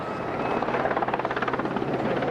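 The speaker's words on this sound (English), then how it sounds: "the familiar and often welcoming sight of a Royal Air Force search and rescue Sea King" A Royal Air Force Sea King search and rescue helicopter at a seaside airshow gives a loud, steady rotor thudding with rapid regular blade pulses, heard alone and fairly close.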